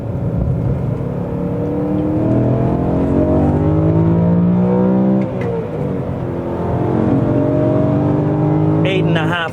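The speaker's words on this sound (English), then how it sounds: "Eight and a half thousand RPM for days." A survivor BMW M3 engine revs hard toward 8400 RPM, its loud, close howl climbing in pitch, easing off briefly, then rising again.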